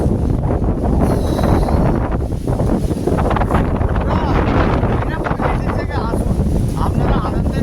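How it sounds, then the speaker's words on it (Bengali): Strong wind blows beside the Ganges river, buffeting the microphone with a steady, loud roar and rumble throughout, while someone talks over it. "হাওয়া ওরে বাবা রে। হ্যাঁ, উৎসট হাওয়া দিয়েছে।"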